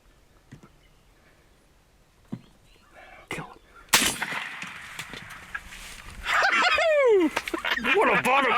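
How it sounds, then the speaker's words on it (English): A Winchester SX3 shotgun fires at turkeys on a hunt, one sharp loud blast cutting through a quiet outdoor scene, followed by excited voices talking loudly. "Doc's got that SX3 from Winchester ready to rock and roll."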